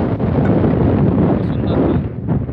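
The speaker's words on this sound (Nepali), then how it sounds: "निकै चिसो हावा चलिरहेको छ अहिले।" Cold wind gusting across a hilltop view tower in Dhankuta, Nepal, a steady loud roar buffeting the microphone with low rumble throughout, easing slightly near the end.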